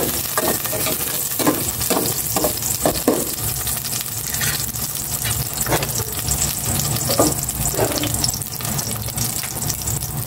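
Garlic fries in cooking oil, a steady loud sizzle with a run of rhythmic clicks and scrapes early on, close and continuous, with no one speaking.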